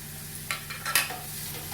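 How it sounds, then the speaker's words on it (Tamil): Onions sautéing in a pan: a soft, steady sizzle under a few brief scraping stirs of a utensil against the pan. "அடுத்தது இந்த வெங்காயத்தை வதக்கிடுங்க."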